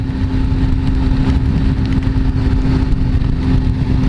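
A liter-class sportbike accelerates up a freeway on-ramp in the rain. Its engine drones loud and steady the whole time, close to the listener, with a strong, even note and no voices.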